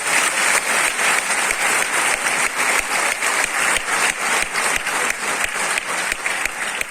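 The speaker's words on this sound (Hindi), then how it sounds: "मैं चाहता हूं मेरे कहने पे एक बार आप अपने लिए फिर से तालियां बजाएं" Sustained applause from a concert audience at a tribute event, dense and steady clapping throughout, fairly loud and continuous with no talk over it.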